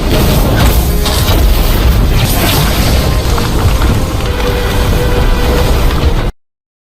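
Massive explosion from a heavenly thunder strike in the Perfect World animated series, a dense, loud, sustained roaring blast filling the whole stretch with crackling debris before cutting off abruptly.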